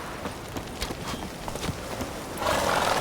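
Roach, a horse in The Witcher 3, neighs and clip-clops at a trot, hooves thudding in a quick rhythm close by before a louder burst of noise at the end.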